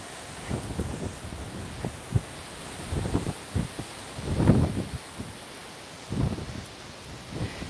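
Gusty wind buffets a microphone outdoors at an old sand quarry, with low rumbling bursts that swell and fade irregularly, the strongest gust in the middle, and no talking.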